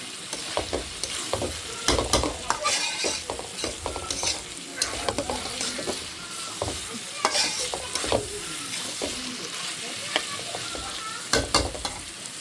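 Tomatoes, onions and green chillies fry and sizzle in a pan, with repeated stirring scrapes and clatters over a steady close hiss, and no talking.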